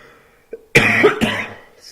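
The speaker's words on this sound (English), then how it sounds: "Had a cough there." A person coughs twice close to the microphone, a sharp burst followed by a shorter second one, during a quiet spoken recap of a Pokémon draft.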